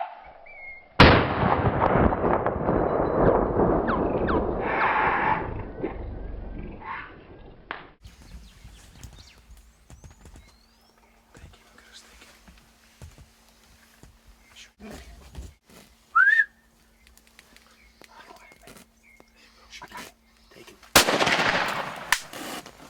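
A single rifle shot on a hunting safari cracks out loud and close, its blast rolling away in a long echoing decay over several seconds, followed by quiet outdoor ambience with a brief chirp and another loud burst near the end.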